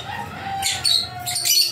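A freshly caught bird gives harsh squawks, close and loud, with three bright bursts in under two seconds.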